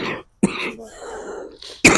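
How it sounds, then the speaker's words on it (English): A single harsh, close cough from someone speaking about homelessness, followed by a quiet raspy breath, then a second sharp burst cut off at the end. "Excuse me, I got this bad You're cough."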